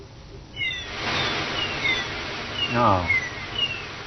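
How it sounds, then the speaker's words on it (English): Sea and seagull sound effect generated by a BBC Micro home computer in 1983: a steady synthetic noise wash like surf, with repeated electronic gull-like cries and a brief spoken exclamation over it. "Sea and gulls and everything."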